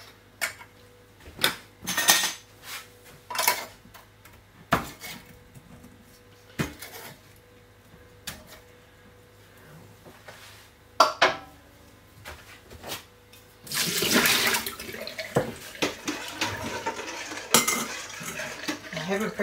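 Dishes, pots and cutlery clatter and clink in a home kitchen during washing up, with irregular sharp knocks and scrapes and a busier stretch of running clatter toward the end.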